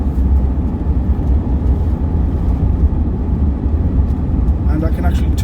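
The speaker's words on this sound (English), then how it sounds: "And I can actually talk even over the tyre noise." Steady low road and tyre rumble from a 50-year-old Rolls-Royce driving, a constant loud drone throughout, with someone talking over it.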